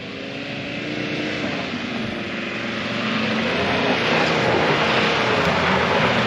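VW T4 van engine droning as it gathers speed up a dusty dirt track toward a monastery in Georgia, a loud steady roar that gradually builds, heard from inside the vehicle.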